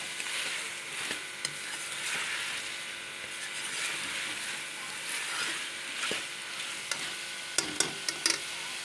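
Chicken and potatoes sizzle steadily in a pan while being stirred, with a scraping utensil and occasional sharp metallic clinks close by, and no voices.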